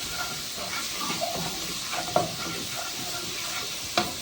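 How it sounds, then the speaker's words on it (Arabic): Minced garlic frying in a little oil in a pan gives a continuous moderate sizzle with soft hissing, broken by a couple of brief clinks or stirs. "نزلنا في الطاسه معلقتين من الزيت، عليهم معلقه صغنطوطه من الثوم المهروس لحد ما ياخد اللون الذهبي فقط"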